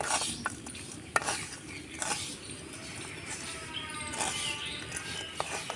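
A coconut batasa mixture is stirred without pause in a pan as it dries out, making quiet, close scraping and light tapping strokes at an uneven rhythm.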